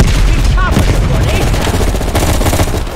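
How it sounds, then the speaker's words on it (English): Gunfire in the Call of Duty: Black Ops Cold War video game, loud, rapid automatic bursts and booming shots in continuous heavy exchange, with brief voice fragments buried in the firefight. "At the fork, you followed the road right toward the sound of gunfire."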